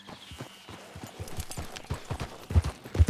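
Horse hooves clip-clop in Red Dead Redemption 2, a quick, uneven run of close hoof strikes that grows heavier and louder toward the end, with no talk heard.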